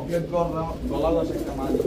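Pigeons at a pigeon market coo in low, throaty rolling calls close by, one after another, while people talk underneath.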